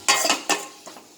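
Vegetables being sautéed in a pan for ragi-vegetable soup: a few sharp scraping clinks of a spoon against the pan, close and fairly loud, fading into a quieter stir near the end.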